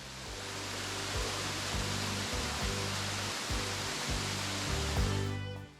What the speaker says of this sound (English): we finally found the first waterfall